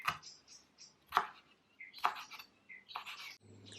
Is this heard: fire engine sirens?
no